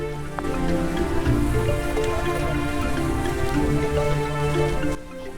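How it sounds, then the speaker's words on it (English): Rain falls steadily in the forest of Kaziranga National Park, a continuous patter of drops on leaves and surfaces under a low hum, dropping off slightly at the very end; no one speaks. "Though the incessant rain tested our patience"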